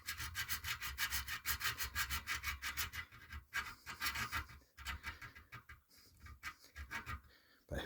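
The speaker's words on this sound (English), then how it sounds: "I'm just trying to get that little burr off from where I'm cutting this new circle." A wooden spoke being trimmed to take a burr off a newly cut beveled circle, giving a steady, rhythmic, close rasping and rubbing that slows and turns irregular in the second half.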